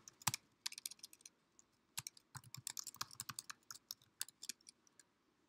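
Equations being typed on a computer keyboard, quick irregular runs of soft key clicks with short pauses between bursts, close but quiet, no talking.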